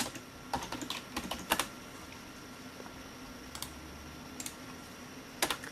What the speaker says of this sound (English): We're going to type adb shell.